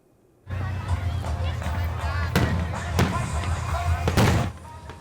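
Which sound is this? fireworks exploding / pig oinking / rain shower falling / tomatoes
fireworks exploding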